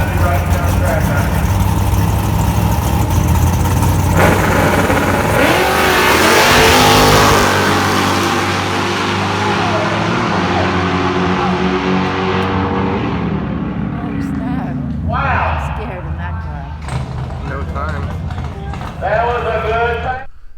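A stock 2018 Mustang on nitrous racing down a drag strip, a loud engine roar that builds and fades under a voice talking, with crowd and track noise behind.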